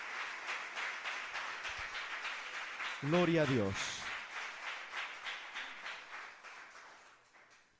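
A church congregation claps rhythmically and steadily throughout, loud and close, while someone speaks and exclaims over the clapping.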